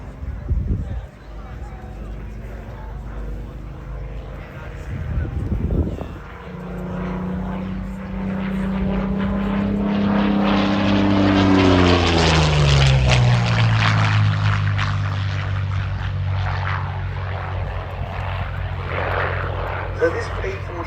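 A Curtiss P-40E Kittyhawk with a liquid-cooled Allison V1710-39 engine of about 1,000 horsepower roars past in a flying display, its propeller drone rising to a loud close pass with a falling pitch sweep as it moves away.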